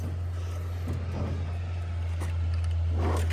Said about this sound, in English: Sorry about the car noise there.